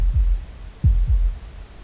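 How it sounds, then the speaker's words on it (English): Three low, thumping heartbeat-style pulses, one at the start and then a close pair, loud and alone with no talk over them, used as a tense sound effect. "The heartbeat?"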